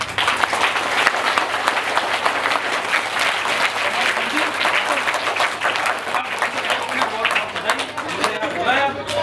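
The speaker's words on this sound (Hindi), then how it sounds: "सारे बच्चों के लिए एक बार पुनः जोर से ताली बजाई जाए।" An audience at a temple program for children breaks into loud sustained clapping, a thick continuous wash of applause with some crowd voices underneath.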